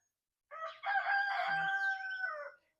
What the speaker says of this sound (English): That was the first little crow